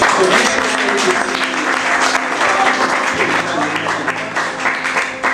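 Audience applause following a Hindi poetry recital, sustained and dense across the whole stretch with a steady hum underneath, easing slightly toward the end.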